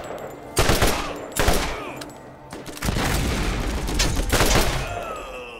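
Video game gunfire in heavy bursts, with loud booming shots and rapid automatic fire, a couple of big blasts followed by a long stretch of sustained shooting and explosions.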